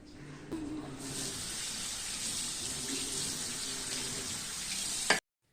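An item is rinsed clean under a running kitchen tap, giving a steady, close hiss of flowing water that holds evenly for about five seconds before stopping abruptly.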